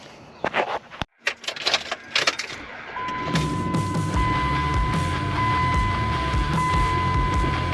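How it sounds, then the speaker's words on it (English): Pickup truck engine cranking and catching, settling into a steady idle hum after a few clicks and rattles, nearby with no talk. "I'm going to fire up this truck and let's see what we got going on."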